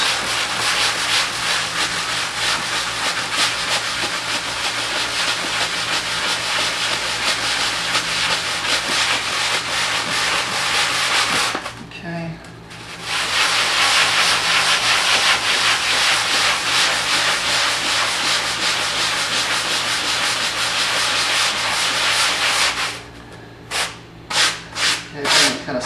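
Sanding block rubbed steadily along the seam of an artificial turf putting green, a continuous close scratchy rasp that breaks off briefly midway and ends in a few short separate strokes.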